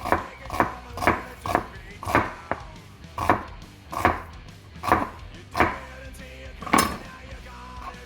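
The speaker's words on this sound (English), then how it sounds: "so I'm going to cut up the other half of the onion" Knife chopping an onion into thin slices on a board, about a dozen sharp, evenly spaced chops at a steady rhythm, close and clear with no talking.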